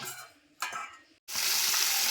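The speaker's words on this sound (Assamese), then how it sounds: "মাছখিনি ধুনীয়াকৈ চাফা তাফা কৰি নিমখ হালধি সানি ল'লোঁ এতিয়া মই ফ্ৰাই কৰি ল'ম" Fish rubbed with salt and turmeric sizzles as it fries in hot oil in a home kitchen, a loud steady hiss that builds after a brief pause, with a few stirring scrapes and no talk.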